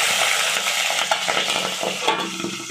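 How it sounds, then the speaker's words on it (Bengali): Onion and onion greens hitting hot oil seasoned with black cumin in a home kitchen pan, giving a loud steady crackling sizzle with scattered utensil scrapes and clinks, no talking. "তো পেঁয়াজ কলি আর পেঁয়াজ একসাথেই যাচ্ছে তেলে"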